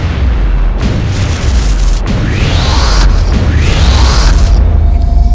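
A UFO shot down by an EMP cannon in XCOM: Enemy Unknown, heard as a series of loud booming blasts with rising whooshing sweeps between them over a constant low rumble.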